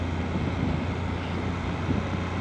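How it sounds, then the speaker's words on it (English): Strong wind buffets the microphone while riding a BMW GS Adventure motorcycle near Loch Eck in Scotland, a loud continuous roaring rush with no talking. "Very, very windy."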